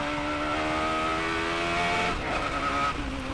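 A Radical SR8 race car laps the Nürburgring on a very bumpy stretch, flat out in third and shifting up to fourth. The engine drones loud and steady with a dense harmonic whine, recorded close from onboard, and no talk is heard.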